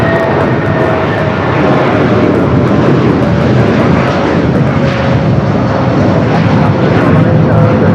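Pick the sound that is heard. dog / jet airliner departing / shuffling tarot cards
jet airliner departing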